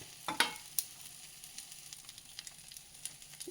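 An evening snack fries in a little oil on a stone griddle. A faint, soft sizzle carries a few sharp crackles near the start and light popping afterward, with no talking.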